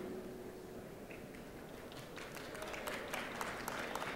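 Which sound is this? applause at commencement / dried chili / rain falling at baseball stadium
applause at commencement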